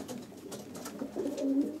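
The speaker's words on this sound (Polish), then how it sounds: "Gołębie sobie mogą wychodzić" Racing pigeons coo in a glass-fronted aviary at a breeder's loft, soft repeated calls close by, growing a little louder toward the end.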